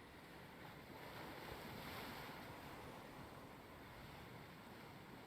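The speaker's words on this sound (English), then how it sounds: "Waves as it bashes on the boat and spreads off as you hear it moving." Waves wash against a wooden boat in a continuous, even rush of water and wind noise, steady and fairly close without distinct separate splashes.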